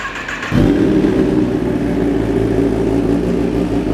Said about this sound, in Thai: ค ันนี้มาเพราะว่าท่อแต่งทรง SC Project แบบสลิปออนครับมาฟังเสียงท่อคันนี้ กัน